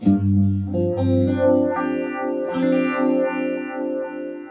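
An electric guitar played through the Jimi Nova, a budget Univibe clone pedal with its hue control turned fully up, rings out sustained chords with a throbbing, swirling phase-chorus wobble, loud and upfront without speech.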